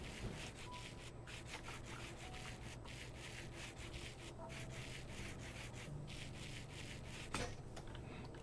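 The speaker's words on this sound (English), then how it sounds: "put the sandpaper in the offhand, and go over to the rose quartz, I can polish" Rose quartz is polished with sandpaper in the Minecraft Create mod, a repeated rhythmic rubbing and scraping that plays steadily and close throughout, with no talk.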